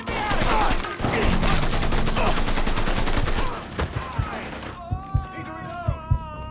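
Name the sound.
gunfire from a video game (Mafia 3)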